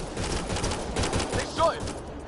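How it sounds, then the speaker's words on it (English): Rapid gunfire rattles continuously at moderate loudness, dense and steady with a few stronger bursts, as a voice briefly cuts through. "They shot him!"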